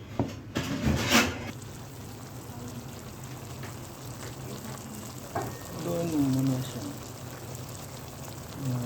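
Adobong gulay with squash leaves being stir-fried in a pan, a steady close sizzle and frying hiss throughout, with occasional stirring scrapes and voices talking over it.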